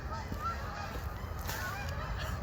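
A dense chorus of geese honking continuously on a disc golf course, many birds calling over one another at steady volume with no pauses.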